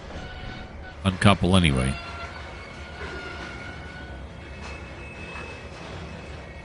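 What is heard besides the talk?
train braking in Trainz 2022 video game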